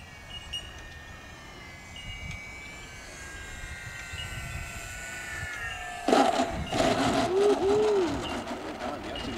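Radio-controlled model plane on approach to land at an airfield, a thin steady engine whine drifting in pitch, fairly distant, with louder rustling and a voice-like tone near the end.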